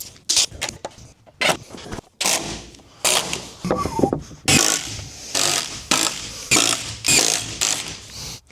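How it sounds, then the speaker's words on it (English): Screws driven into 2x6 dock joists, a close, loud power driver whirring and ratcheting in short repeated bursts with brief pauses between each screw. "I'm gonna tack them in with screws since my nail gun won't fit underneath"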